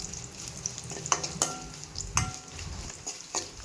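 Garlic and curry leaves fry in a pan for mango chitranna, a steady close sizzle broken by several light scrapes and clinks of stirring, with no talk.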